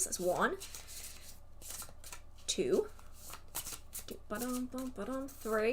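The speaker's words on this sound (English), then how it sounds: "So I would then shuffle 6 times." A deck of tarot cards is shuffled repeatedly in short, crisp bursts of riffling and slapping, spread across several seconds. A person talks and counts aloud between and over the shuffles.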